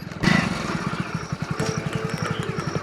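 A motorcycle rides slowly along a dry dirt path from the road toward a rice field, its engine thudding in a steady low pulse close by for the whole stretch, without talk.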